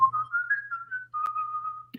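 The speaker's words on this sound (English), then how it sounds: "I'm probably driving people crazy with my whistle." A single person whistling a wavering melody, close and clear, with a brief pause midway and a soft click near the end.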